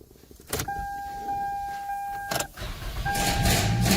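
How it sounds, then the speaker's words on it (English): A 2002 Toyota Camry with a key in the ignition: a steady two-tone chime sounds, a clunk follows, then the engine cranks and catches and idles with a low, rising rumble, heard up close inside the car. "let me start the car"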